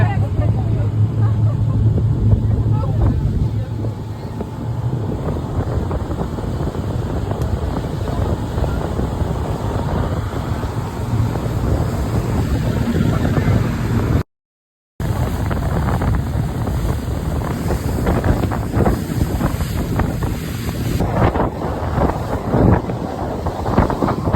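On a boat ride out to Nusa Penida island, strong wind buffets the microphone over a continuous engine rumble and rushing water for a long stretch, with one brief dropout midway.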